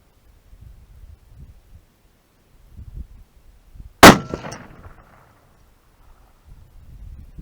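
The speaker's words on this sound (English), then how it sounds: "here's the first shot with the muzzle brake" A single loud rifle shot from a Remington 710 in .30-06 fitted with a muzzle brake, which blows off when fired; one sharp close crack with a short ringing decay, set against quiet outdoor wind noise.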